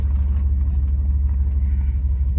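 Steady low engine rumble from a small homesteading truck driving along with a heavy water load, close and continuous throughout.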